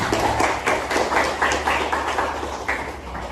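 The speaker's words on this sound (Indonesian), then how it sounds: "Beri tepuk tangan untuk Rizky." A small classroom group of students claps, giving scattered, uneven hand claps in short bursts that fade slightly toward the end, close and fairly loud, with no speech.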